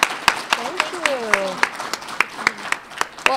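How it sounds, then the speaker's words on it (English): An audience at a talk claps after a presentation, a modest round of scattered individual claps with a few sharp ones standing out, while people's voices are heard talking under the clapping. "round of applause"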